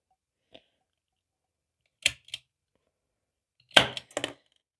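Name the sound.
modified cap gun firing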